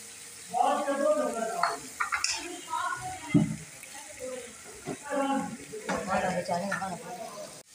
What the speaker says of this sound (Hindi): नींबू का रस डाल रही हूँ।